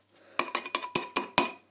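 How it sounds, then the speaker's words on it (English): A spoon scrapes and clinks against a bowl of microwaved macaroni cheese, six quick evenly spaced metallic strikes, close and crisp, with no talk. "you may now stir."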